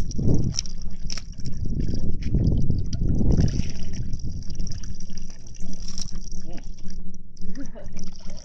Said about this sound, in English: you have free-flowing sources of water. This comes straight from the river